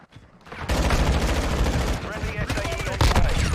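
Rapid gunfire from a marksman rifle in Call of Duty: Modern Warfare 2 erupts after a brief quiet start, a dense, loud run of shots and game action continuing to the end, with a voice faintly underneath.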